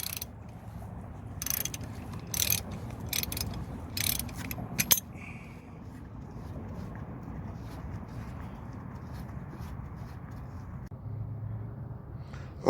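Intermittent ratcheting clicks from a wrench with a 24 mm socket working the lower ball joint on a 2005 Chevy front suspension, in short bursts over a steady low garage hum, fairly quiet and without speech.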